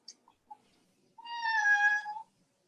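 A domestic cat gives one clear, drawn-out meow after a few faint clicks, close and isolated in an otherwise quiet room.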